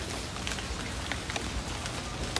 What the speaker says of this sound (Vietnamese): Cơn mưa này thì giống như là nó đánh dấu kết thúc một cái mùa hạn.